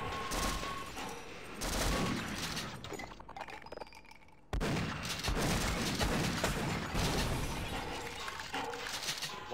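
Automated turrets firing in Half-Life co-op, dense bursts of sharp, crackling gunfire with glassy clinks, loud and continuous apart from a brief lull near the middle.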